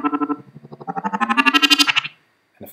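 A pulsing synthesized tone with heavy reverb warbles upward in rapid repeated beats, then cuts off, leaving a brief lingering wash before a new burst begins.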